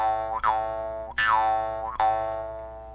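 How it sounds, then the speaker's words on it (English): A jaw harp twangs three times in slow succession, each a bright, close, springy boing that wavers in pitch and then rings out. "These are jaw harps"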